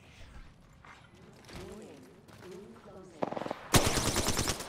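Rapid gunfire from the battle royale shooter Apex Legends in a solos match, with a brief burst followed by a louder sustained volley at the end, coming after quieter game sounds and mechanical clicks.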